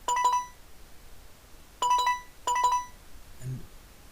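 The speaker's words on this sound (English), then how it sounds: "I can toggle any sounds that are issued during a warning." Short electronic alert tones from a document scanner's warning signal: three bright beeping bursts, the second pair close together, followed by a faint trailing tone, heard alone and fairly close.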